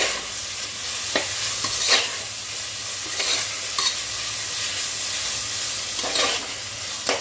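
Fried masala for chicken biryani, with coriander and mint just added, stirred in a hot pan; a steady loud sizzle runs throughout with periodic scraping stirs, and no talk.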